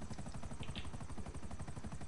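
Helicopter in GTA 5 Online, a steady rapid rotor chop pulsing evenly throughout, loud and continuous with a whining engine layer above.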